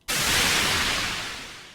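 Layered white noise built to mimic the echo of an explosion: a sudden loud burst of hiss that swells, then thins and fades slowly over a couple of seconds, with no voices.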